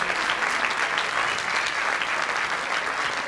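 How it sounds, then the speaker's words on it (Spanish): An audience claps loudly for a competition dance group at an event, a thick continuous burst of applause that holds steady from start to finish. "Fuerte el aplauso para el grupo de competencia"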